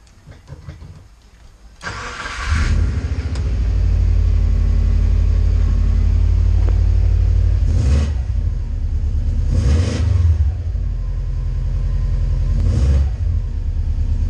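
A Subaru hillclimb project car with a new drive-by-wire throttle conversion cranks and fires up, then holds a loud steady idle broken by three sharp revs, with no talking.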